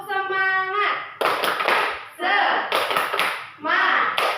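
Children in a classroom chant and clap together in a rhythmic group clapping routine, sharp hand claps and taps landing in patterned bursts between loud, close voices.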